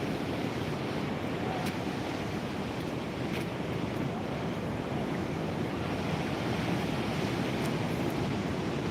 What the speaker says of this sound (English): Look at the sea coming in too.